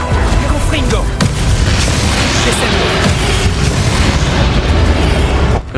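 Loud, continuous explosive blasting from the Confringo fire spell in the Hogwarts Legacy video game, heavy low booms and bursts filling the whole stretch with a brief pop near the start.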